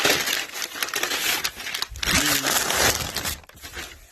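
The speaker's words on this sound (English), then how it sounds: "We use heavy grade steel, so it makes it difficult to unwrap with one hand." A heavy grade steel part being unwrapped, its wrapping crinkling and crumpling loudly and steadily up close for several seconds.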